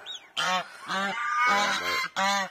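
A domestic goose honks close by near three newly hatched goslings, giving a short high call followed by four loud, nasal honks in quick succession, each separated by brief pauses, with no speech.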